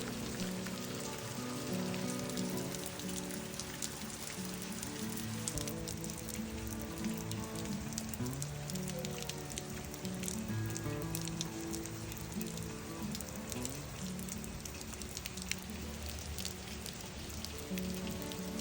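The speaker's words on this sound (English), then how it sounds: "After enjoying the rain for a while" Steady rain falls outdoors, a dense continuous patter of drops on surfaces with no voices.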